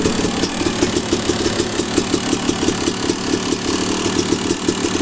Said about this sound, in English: Idle's a little low, but Fires right up like a champ.